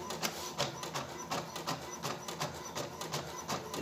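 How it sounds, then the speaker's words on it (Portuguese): A printer running a black-and-white print job of a certificate, giving a steady close mechanical whir with regular rhythmic pulses throughout, heard alone without talk. "Vai imprimir."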